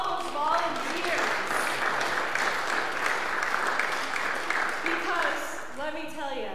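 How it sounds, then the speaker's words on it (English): A crowd applauds with steady clapping for several seconds, and a voice speaks at the start and again as the clapping fades. "let's give a round of applause to all those volunteers"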